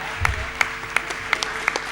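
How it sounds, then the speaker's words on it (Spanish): Applause from a conference audience at the close of a panel session, fairly soft with a few distinct claps standing out in a regular rhythm, heard alone without talk. "Renovamos el aplauso para Germán y para Eva"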